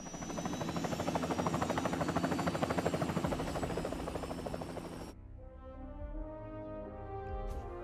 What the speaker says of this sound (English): All he has to do now is fast interact with this conveniently placed chopper to end the mission.